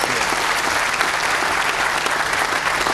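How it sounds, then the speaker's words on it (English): Audience applause at an Alcoa-Howmet press conference and groundbreaking event. Dense, even clapping from a gathered crowd, sustained and fairly loud throughout. "Big round of applause for everybody who's"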